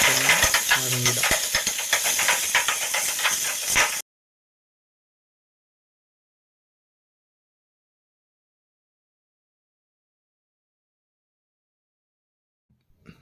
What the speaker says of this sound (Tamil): நறுக்கி வச்ச சின்ன வெங்காயத்தை போட்டு நல்லா வதக்குறோம்.